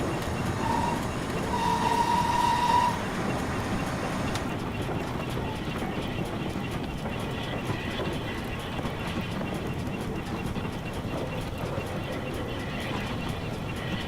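A steam train runs with a steady low rumble and rhythmic chuffing in a Train Simulator game set on the Riviera Line in the 1950s, continuous and moderately loud, with a brief whistle-like tone early on.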